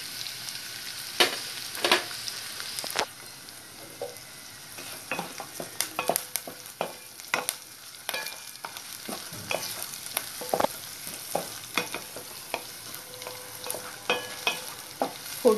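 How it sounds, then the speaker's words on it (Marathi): Onion sizzling in hot oil in a pan while a spoon stirs and scrapes it, giving a soft continuous frying hiss broken by sharp irregular clinks and scrapes, close and fairly quiet with no voices. "कांदा थोडा परतून घ्यायचा आहे"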